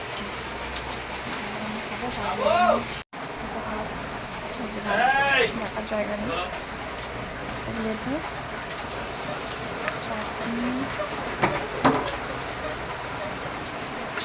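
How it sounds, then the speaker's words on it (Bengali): Heavy rain falls outside in a constant, dense wash of patter, with occasional bird calls cutting through and people talking nearby. "বাইরে হচ্ছে ভয়ানক বৃষ্টি"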